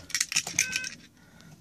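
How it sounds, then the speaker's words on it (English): Car keys jangle and clink as they go into the ignition of a 1999 Bentley Arnage twin-turbo V8, a close metallic rattle in quick bursts that fades into quiet. "Let's go ahead and put the keys in the ignition."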